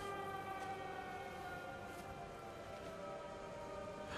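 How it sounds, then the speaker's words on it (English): A wailing air-raid siren sounds in the game Everybody's Gone to the Rapture, a steady, sustained tone held over a continuous background hiss. "And now there's a siren going off."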